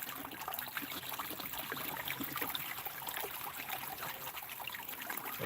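Water poured into a container outdoors during a river gold-prospecting session, a steady faint trickle and splash running throughout with no talk.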